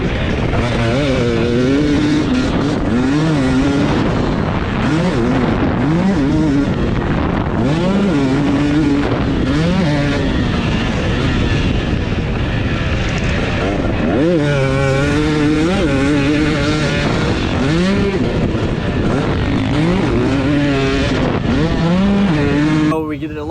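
A 2021 Husqvarna TC250 dirt bike is ridden hard, its engine loud and close, rising and falling in pitch as it revs up and down through gears, with heavy wind buffeting throughout.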